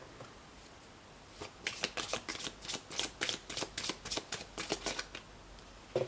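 A deck of tarot cards is riffled and shuffled close by in quick, crisp bursts of flicking and slapping, repeating rhythmically for several seconds in a quiet room.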